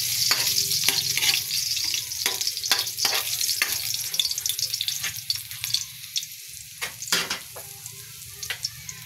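Garlic frying in a pan as the base for a budget sardine dish, a bright, steady sizzle punctuated by sharp stirring clicks and scrapes close by.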